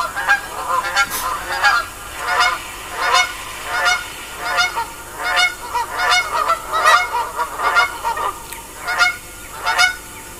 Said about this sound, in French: Là, je tombe sur la bernache du Canada.